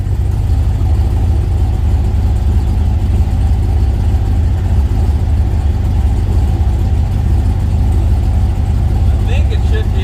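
A stock-bottom-end SBE 6.0L LS V8 on a dyno roars loud and close, a dense, steady low engine drone held at high revs with no breaks, while a voice talks beneath it.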